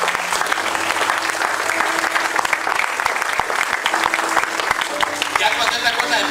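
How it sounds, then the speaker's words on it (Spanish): Congregation clapping at a church service on the calling to ministry, a long, steady burst of many hands, loud and even, with some crowd voices and talk mixed beneath. "Denle un aplauso al Señor."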